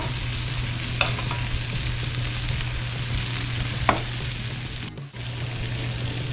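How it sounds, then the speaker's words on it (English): A ribeye steak sizzles steadily in a pan on high heat as it is basted with hot butter, a continuous frying hiss with a low hum beneath and a couple of brief spoon clicks and a small dip near the end. "I butter basted for about 2-3 minutes"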